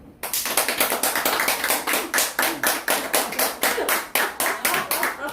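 A pair of hands claps rhythmically and close, about twenty crisp, evenly spaced claps at a brisk steady pace, loud and dry, with no voices over them.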